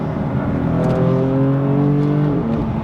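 A BMW M4 with its secondary resonators removed accelerates on a motorway. The exhaust gives a loud, close, rising engine note that climbs steadily through the gears. A gear change comes near the end, and there is no talking.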